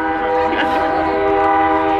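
A passing train sounds its horn in a long, loud, sustained blast over heavy rail rumble, close by and drowning out everything else, at an outdoor rally in Kalamazoo, Michigan.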